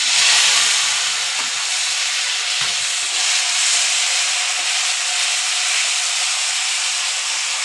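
Onion paste frying in hot oil spiced with cinnamon, cardamom and cloves, giving a steady, loud, broad sizzling hiss that holds evenly throughout with no voices over it.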